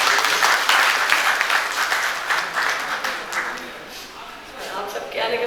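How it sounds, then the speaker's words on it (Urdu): Audience at a book launch ceremony breaks into sustained, dense applause that fills the room, with voices mixed faintly into the clapping before it thins slightly toward the end. "ان کو تالیاں بجا کے."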